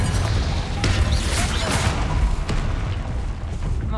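Confringo fire spell blasts in Hogwarts Legacy combat, a dense run of booming explosive bursts and crashing impacts layered over continuous rumbling game noise.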